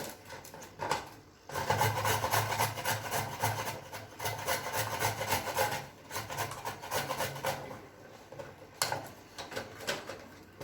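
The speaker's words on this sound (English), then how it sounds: "I'm going to grate it." A carrot rubbed against a kitchen grater in quick repeated scraping strokes, close and fairly quiet, with a brief pause early on and no talk.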